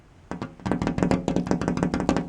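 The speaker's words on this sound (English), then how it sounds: "That's the sound of 1/8 thick, 1/8 of an inch thick glass." A quick, uneven series of light taps on thin one-eighth-inch window glass, close and fairly loud, continuing steadily for about two seconds.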